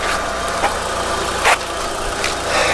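A 1999 Mitsubishi Eclipse GSX engine idles steadily up close, with an even mechanical hum and a few faint ticks over the top.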